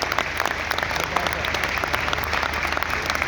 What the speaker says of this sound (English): A big clap to each one of you.